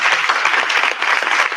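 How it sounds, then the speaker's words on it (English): Audience at a stage panel event giving a big round of applause, loud and dense clapping close by that holds steady for the whole short stretch. "big round of applause."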